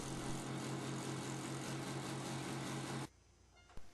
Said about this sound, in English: Then mount the wheel on your vertical sander and rotate for a perfect circle.